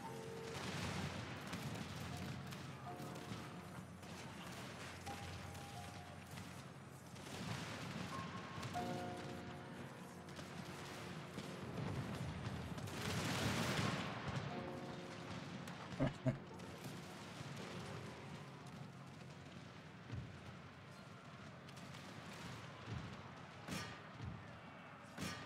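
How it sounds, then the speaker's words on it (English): Artillery volleys boom across an Empire: Total War battle in a Mughal Empire campaign, with rolling distant cannon fire and scattered thuds under a steady battlefield din as a voice talks over it. "Artillery fire over here if you want."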